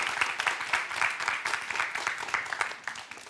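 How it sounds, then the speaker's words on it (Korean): Lecture audience in a hall giving warm applause as a volunteer comes up, a steady crisp wash of many hands clapping without voices. "뜨거운 박수."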